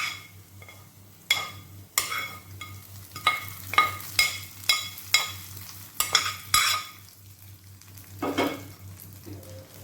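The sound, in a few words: tempering curry leaves and shallots sizzling in oil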